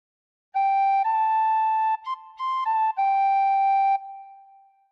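A tin whistle plays a short phrase of "Amazing Grace", a few clear sustained high notes blown gently and close, with a brief ornamented flutter in the middle and no voices.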